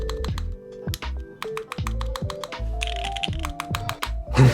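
A custom mechanical keyboard with an aluminum plate and ABS keycaps clacks under quick typing, giving sharp, bright, slightly high-pitched key strikes with a few short gaps, loud and close-miked.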